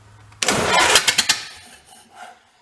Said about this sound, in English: Let's see if it sounds any better with open exhaust.